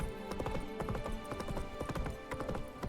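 Hooves of a horned horse clip-clopping in The Witcher 3: Wild Hunt, a close, steady rhythm of clattering steps that runs through the whole stretch over a low background bed.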